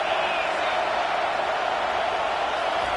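Steady, dense roar of a large college football stadium crowd, loud and continuous with no pauses, filling the whole stretch without commentary over it.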